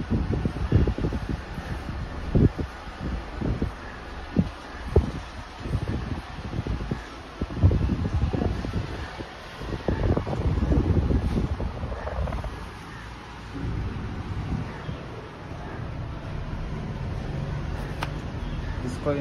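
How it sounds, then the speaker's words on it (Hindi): An Usha Maxx Air pedestal fan runs on its lowest speed, giving a steady, moderately loud whooshing drone. Scattered knocks and clicks sound over it in the first half, and no one speaks. "देखो और ये पंखा चलने लगा।"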